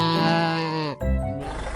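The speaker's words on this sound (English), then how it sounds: "Llama." A llama gives a single loud, close, harmonic bleating call that breaks off into a lower rough grunting sound.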